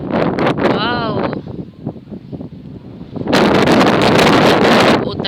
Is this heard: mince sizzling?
no